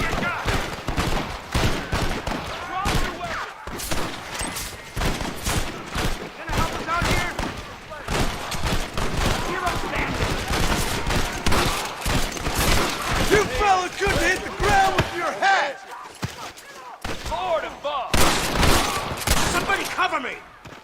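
Gunfire from Red Dead Redemption, with a long, dense fusillade of rapid shots and bursts, loud and close, stretching throughout with brief lulls and shouted voices mixed in.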